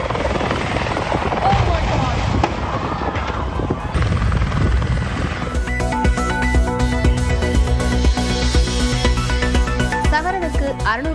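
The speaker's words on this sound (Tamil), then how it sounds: "அமெரிக்காவின் மிச்சிகனில் தரையிறங்கும் போது தடுமாறிய ஹெலிகாப்டர் கீழே விழுந்து விபத்துக்குள்ளானது." Helicopter in news footage of a crash while landing in Michigan: continuous loud rotor and engine roar throughout, turning into a steadier droning whine with rising tones in the second half, with voices over it.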